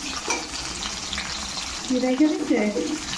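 Parshe fish frying in a pan at home, a loud close sizzle with clatter, and a brief voice passing over it near the end.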